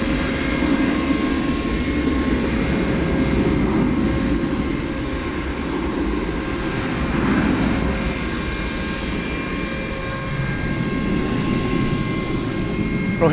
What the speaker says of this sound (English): based upon the trajectory of this plane, it will also be taking off from here on the west side of DFW